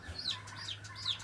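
Small chicks near a farmyard snake give high, repeated cheeping peeps, about three quick bursts over a steady low hum, fairly close and moderately loud.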